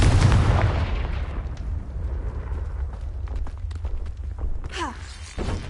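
Explosion of the Confringo curse in a video game: a loud blast with a booming low rumble right at the start, fading into crackling debris and noise, then a smaller burst near the end.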